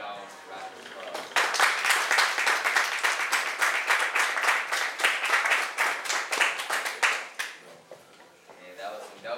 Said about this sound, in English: everybody give Mr. Jones a round of applause